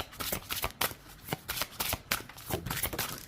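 Tarot cards are shuffled by hand in quick, irregular riffling bursts with sharp papery slaps, close and fairly soft, with no talking.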